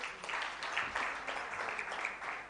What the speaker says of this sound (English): Ladies and gentlemen, let's give her a huge round of applause.